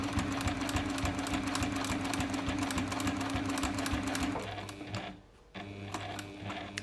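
A sewing machine runs steadily, stitching around the curved edge of a zippered sunglasses case with a fast, even mechanical chatter, then pauses briefly and resumes.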